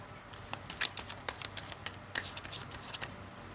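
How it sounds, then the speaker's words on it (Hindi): Someone shuffles a deck of cards nearby, producing a run of quick, crisp riffling bursts and soft slaps in an irregular rhythm. The sound is fairly quiet and there is no talk. "final shuffle"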